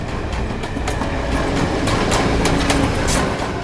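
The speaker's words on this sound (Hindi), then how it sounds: "ट्रेन की आवाज़ है ना कुछ?" A train rolls past on railway tracks, with steady rumble and repeated clickety-clack of wheels over rail joints. It is loud and continuous throughout, with no voices over it.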